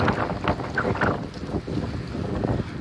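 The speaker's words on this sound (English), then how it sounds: "Sorry for the wind though." Gusty wind on a bike trail buffets the microphone with low rumbling thumps and rustle, steady and close throughout.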